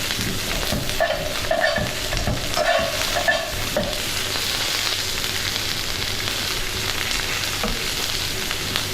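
Mushrooms sweat down in a hot pan alongside turkey steaks, giving a steady close sizzle with a few soft mixing clatters early on, then an even frying hiss, no one speaking.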